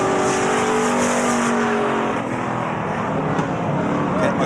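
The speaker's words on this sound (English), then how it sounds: "When the cars will come under caution as Ken McLeod was sitting there sideways on the backstretch" Race cars run at Beech Ridge Motor Speedway during a 1992 weekly racing event, a steady loud engine roar with a faint pass near the end and no talk over it.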